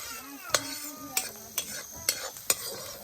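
Local village chicken meat frying and being stirred in a pan, with a steady sizzle and about five sharp, loud clanks of the spoon against the pot in uneven rhythm.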